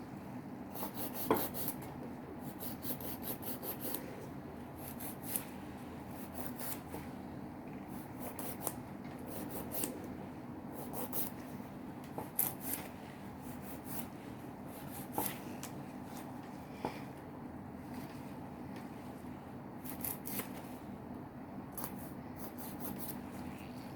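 A nail file rasps across fingernails during a manicure, making soft, quick repeated scratching strokes in short bursts against a quiet room.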